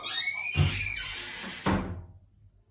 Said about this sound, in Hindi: लो भाई गेट बंद कर देता हूँ।